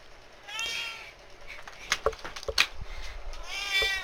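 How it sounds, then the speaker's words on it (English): A house cat meows repeatedly at a shut door, drawn-out cries near the start and end with some knocks or scratching bumps between them, fairly close and moderately loud, no talking. "Hold on a second, my cat wants in."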